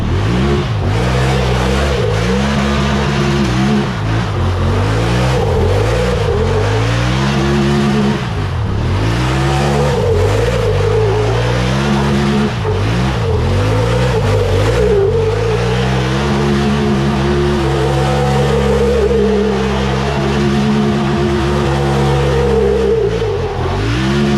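A rebuilt, previously wrecked UTV engine is revved hard against the brakes, repeatedly surging and falling in a loud, close, rhythmic cycle of climbing pitch, bouncing off the limiter with no talk over it.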